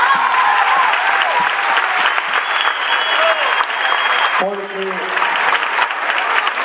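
A concert audience claps in dense, loud applause filling the hall, while someone speaks over it in Spanish near the end.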